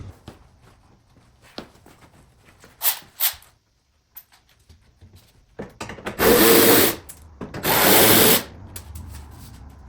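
A power tool works on removing the front bumper of an E46 M3 during a ProCharger install, with two loud bursts of a drill or impact driver whirring after scattered clicks and faint handling noises.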